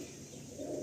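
Madrasi pigeons coo softly and close by in a brief, faint murmur of low throaty calls, with a slight swell at the end.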